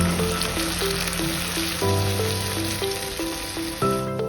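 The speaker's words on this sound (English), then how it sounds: "Add the tomatoes when the onions have turned golden brown and mix well." Frying onions, golden brown in a pan, sizzle steadily as chopped tomatoes go in and are mixed, with a continuous close hiss and soft scraping of stirring throughout.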